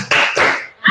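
Children clap along in a rhythmic classroom clap chant, with a few bright hand claps in quick sequence, close and fairly loud, with chanted voices mixed in.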